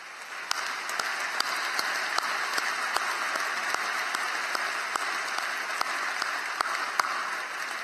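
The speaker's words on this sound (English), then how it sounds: "let's give them a round of applause" A commencement crowd applauds the faculty, a broad, fairly quiet wash of clapping from a large hall, with a few sharper individual claps standing out near the microphone.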